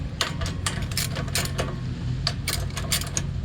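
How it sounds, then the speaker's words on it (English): Ratchet clicking while loosening brake assembly bolts on a 2021 Kia Telluride front brake, a rapid run of close, sharp metallic ticks in uneven bursts over a low steady hum. "take these bolts off"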